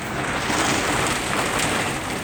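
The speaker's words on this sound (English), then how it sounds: "because it is raining" Heavy rain during gale-force winds, heard from inside a pump house, as a dense, loud, unbroken roar with no voices.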